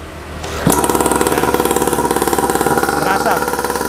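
A small pull-started two-stroke engine catches and runs at a steady, rapid putter, loud and close, for several seconds, with someone speaking over it.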